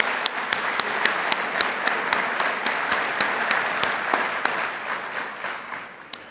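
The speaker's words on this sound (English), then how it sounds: "Please give Ira and Pam an extra round of applause for their incredibly generous support." An audience at the 2019 Liberty Medal ceremony applauds, a continuous wash of clapping with sharp individual claps standing out, steady for most of the stretch before tapering slightly at the end.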